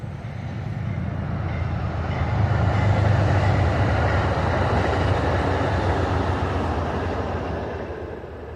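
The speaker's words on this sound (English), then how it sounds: "sorry, the train going by." A train rolls past at a moderate distance, a dense rumbling clatter of wheels on rails that swells in the middle and eases off toward the end, with no talk.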